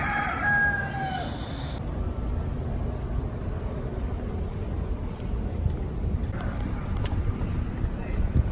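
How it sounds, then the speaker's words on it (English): Several roosters crow near Key West at the start, a loud drawn-out cock-a-doodle-doo rising over steady outdoor background noise, then fading into general ambience with faint distant sounds. "Oh, this rooster was so obnoxious. There's like 5 of them all over. Woken up by roosters."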